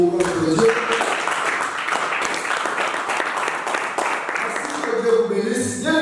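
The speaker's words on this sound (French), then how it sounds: "applaudissez pour notre Dieu." A church congregation applauds in steady, dense clapping lasting several seconds, with a voice speaking at the start and again near the end.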